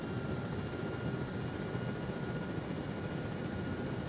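A helicopter flying in a Vietnam War shooter game, a steady, muffled rotor and engine drone holding at one level throughout, with no talk over it.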